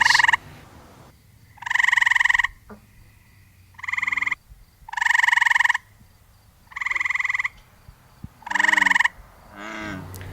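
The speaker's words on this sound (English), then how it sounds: "We look above the water and we see gray tree frogs perched in the willow branches." Gray tree frogs perched in willow branches above water give a series of loud, resonant trilled calls, six bursts of about a second each repeating at steady intervals, close and clear with no talk.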